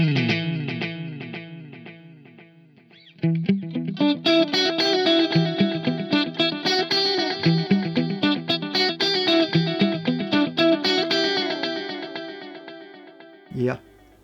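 Emma Electronic Navigator delay pedal on its 3/4 dotted-eighth setting, with electric guitar notes and chords trailed by rhythmic repeating echoes; it starts softly, turns full and steady, then ends with one final strum.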